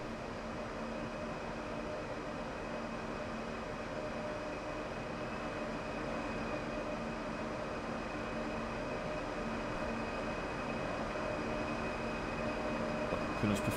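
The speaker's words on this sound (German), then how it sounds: "wird sich der Zug auch in Bewegung setzen." An ICE train in Train Sim World 3, running as ICE 7033 from München Hbf on the Aschaffenburg–Gemünden route, pulls away with a steady, close rumble and faint tonal whine that builds slightly over the stretch.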